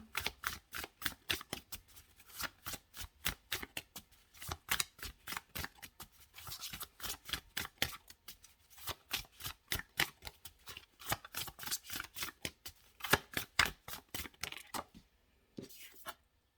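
Tarot cards are shuffled by hand, a long run of rapid, close riffling flicks and taps in uneven bursts, continuing for many seconds before stopping briefly and resuming.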